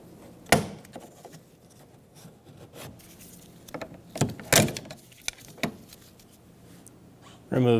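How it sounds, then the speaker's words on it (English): A trim tool pries the door handle trim off a 2003-2008 Subaru door, giving several sharp plastic clicks and pops at irregular intervals over faint rubbing, with someone speaking quietly throughout. "Using a trim tool, we're going to pop out this door handle trim."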